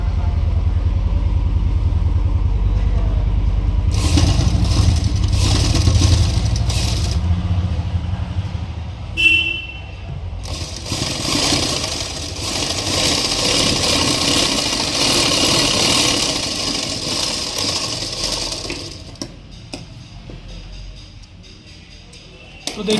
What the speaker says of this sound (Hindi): अब इसके बाद कफ को इस तरह से पलट लेंगे और ऊपर यहाँ पर एक सिलाई लगा देंगे।